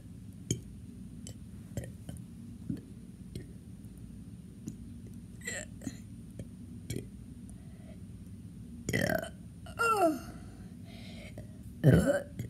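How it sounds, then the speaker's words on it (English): Burping during a burping challenge: after faint ticking and low background noise, a few loud, close burps break out near the end, with some vocal sounds between them. "that was the best burping over you"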